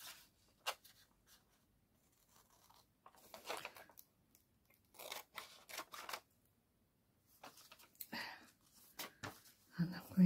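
Scissors cut through paper ephemera for a journal in a quiet room, producing a series of soft, crisp snips and rustles in short irregular bursts.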